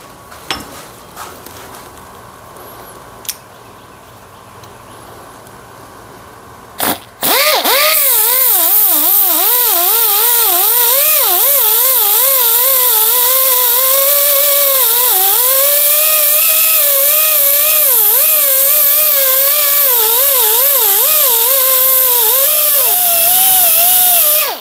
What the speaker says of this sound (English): anything that I can't true up with the die grinder, I'll go back inside and finish truing it up with hand files